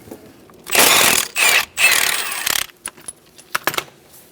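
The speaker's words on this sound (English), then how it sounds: "we can remove our crank pulley bolt" A ratchet working on the crank pulley bolt of a 1994-1997 Honda Accord 2.2L, with loud bursts of rapid clicking followed by scattered metallic clinks and taps.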